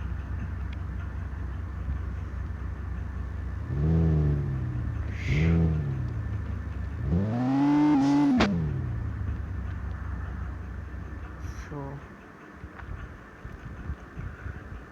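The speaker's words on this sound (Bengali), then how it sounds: "গাড়ির সাউন্ডটা কীরকম" A car engine in the game Car Parking 3D revs up several times with rising whines, the longest climb near the end, over a steady low engine drone.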